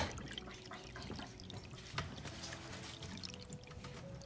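Arc-shaped pet water fountain fitted with an NPET WF050 filter, running quietly with a soft continuous trickle and scattered small drips.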